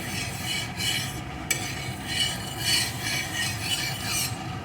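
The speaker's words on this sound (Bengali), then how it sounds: "এখন তেলটাকে চারিদিকে একটু এইভাবে ছড়িয়ে দিচ্ছি।" Oil being spread around a hot tawa on a gas stove, a steady soft scraping and rubbing with faint sizzle, close and fairly quiet with rhythmic strokes.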